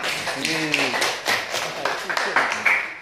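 Classroom clapping for a student discussion group during a peer-teaching lesson, a few scattered claps rising over steady chatter and voices close by.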